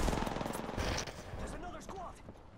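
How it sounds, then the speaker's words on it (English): Rapid video-game gunfire in Apex Legends crackles in quick repeated bursts, fairly close and steady, with voices talking over the shooting. "Oh, I'm getting shot at"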